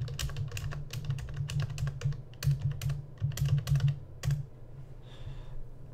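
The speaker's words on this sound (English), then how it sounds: "And let's just start typing away." Rapid typing on a computer keyboard, bursts of close, crisp key clicks with short pauses, then a quiet stretch at the end.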